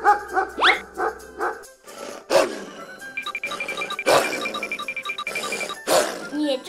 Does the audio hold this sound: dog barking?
yes